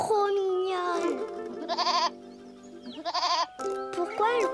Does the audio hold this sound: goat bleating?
yes